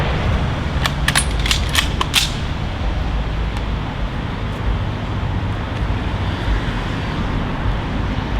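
Rifle volley fired on command at a memorial ceremony, heard as a cluster of sharp reports close together early on, then steady outdoor background with road noise.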